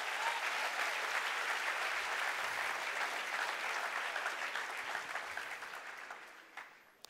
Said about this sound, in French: Est-ce qu'on peut applaudir les vainqueurs dans la place?